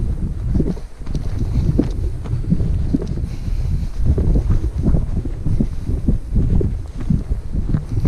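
Gusty wind buffets the microphone on a hike in Cornwall in heavy, uneven low rumbles that rise and fall throughout, with no voices.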